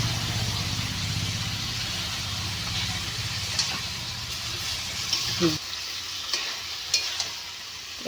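Spices frying in a pan with chilli powder, turmeric, green chillies and salt before potatoes go in: a steady close sizzle with occasional stirring clinks, fading somewhat near the end, with a voice talking over it.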